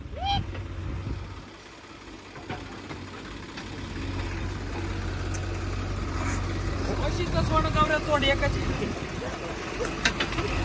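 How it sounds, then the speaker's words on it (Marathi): Engines rumble and idle steadily as a JCB hauls a Swaraj tractor stuck in a flooded river, a low continuous drone rising slightly toward the end, with voices talking over it and a few sharp clanks. "अशा प्रकारे ते ट्रॅक्टर ओढत आहे माग."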